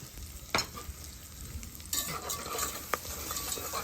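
A spatula scrapes and stirs gravy through rendered sausage and bacon fat on a Blackstone griddle, a few distinct scrape strokes over a steady low sizzle, close and fairly quiet.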